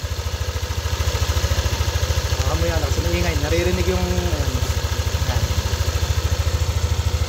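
A hot Yamaha Nmax V2 scooter engine idles close up with a fast, even putter and a rattling clatter, running steadily throughout while someone talks over it.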